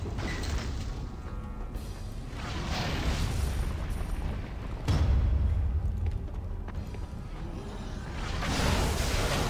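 Rumbling explosions in the fantasy role-playing game Dungeon Siege 2, with creatures bursting amid continuous heavy booms and whooshing blasts that swell and fade over a dense, noisy battle background.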